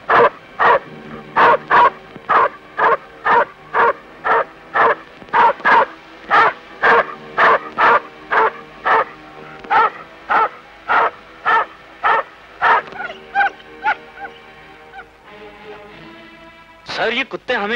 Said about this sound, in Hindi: सर, ये कुत्ते हमेशा आप ही को देखकर क्यों भौंकते हैं?